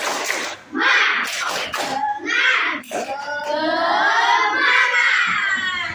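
Schoolchildren in a classroom shout the tepuk semangat icebreaker chant together with rhythmic clapping, loud and close, their voices rising and falling in bursts.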